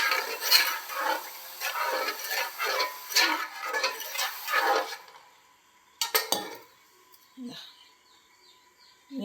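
Water is poured into a pot of rice for biryani in splashy bursts for about five seconds. A few utensil clinks follow, with faint bird chirps in the background.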